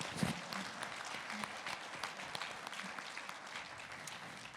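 Steady, dense audience applause fills a ceremony hall at the 2025 Robert M. Ball Award, many hands clapping continuously and evenly throughout without any voices standing out.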